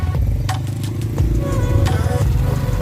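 Motorcycles being pushed and manoeuvred into place at Ranikot Fort in Sindh, a low engine rumble running throughout with several sharp clanks and knocks scattered over it.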